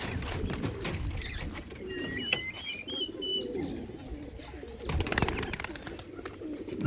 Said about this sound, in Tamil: பந்தய புறாக்கள்